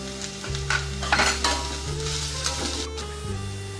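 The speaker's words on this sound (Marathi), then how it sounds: "सर्व भाज्या आता आपण मिक्स केलेल्या आहेत आणि आता आपण 3 मिनिट ह्या भाज्या परतून घेणार आहोत।" Shredded cabbage and mixed vegetables stir-fried in a pan for fried rice, with a loud close sizzle and bursts of scraping stirring, while steady background music plays throughout.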